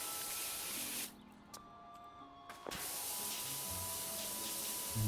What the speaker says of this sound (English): What better way to get clean by spraying yourself with very high pressure water?